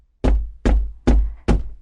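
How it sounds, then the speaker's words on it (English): Four firm, evenly spaced knocks on a wooden door, close and loud against silence. "the fisherman went to the priest's house and knocked on his door."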